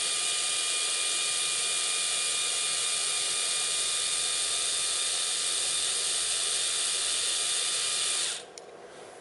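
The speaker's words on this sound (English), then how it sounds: "And now it'll retract all the way in and stop." A 6-inch linear actuator motor retracts its stroke with a steady, close, even whine and hiss that holds unchanged for about eight seconds, then cuts off abruptly as it reaches the end and stops.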